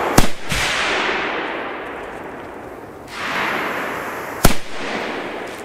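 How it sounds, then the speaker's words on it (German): Large Veko cannon-cracker firecrackers at a fireworks event: two sharp, loud bangs about four seconds apart, each followed by a long rolling echo and crackling rumble that fades between blasts. "Veko-Kanonenschlag groß."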